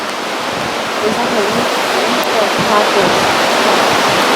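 River rapids in Ausable Chasm rush past a raft in a dense, steady roar of white water that stays loud and close throughout, with no break.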